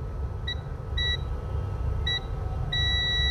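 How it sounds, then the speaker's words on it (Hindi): A multimeter in continuity mode beeps while a technician probes a short-circuited capacitor on a Poco M3 phone board, giving several short high beeps and one longer steady tone over a constant hiss of background noise. "ये देखिए बीप दे रहा है"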